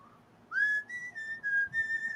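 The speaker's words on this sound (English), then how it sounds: "I want you to give me a quick little short whistle" A person whistles a short whistle at a live Halloween podcast séance: one rising note, then several close, clear, sustained pitches in quick succession with brief gaps, alone without talk.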